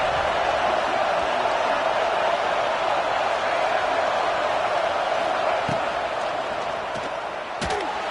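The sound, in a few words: basketball arena crowd cheering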